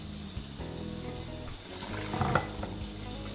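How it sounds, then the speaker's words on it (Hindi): Wheat and mixed lentils for haleem tip into a pot of boiling water, a soft bubbling and swishing that swells into a louder splashing rush partway through, with no talking. "पानी उबल चुका है और इसके अंदर मैं गंदुम और तमाम जो दालें ली थी हलीम की वो सारी इसके अंदर डालकर"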